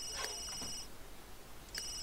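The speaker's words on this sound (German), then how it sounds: "Telefon, Telefon, Telefon." Electronic telephone ringtone from The Sims 3, sounding two short bright rings spaced about one and a half seconds apart, fairly quiet over a low in-game background hum.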